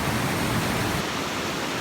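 Phromlok Waterfall in Nakhon Si Thammarat, Thailand, pours in a steady, dense broadband roar of falling water, loud and close throughout with no voices.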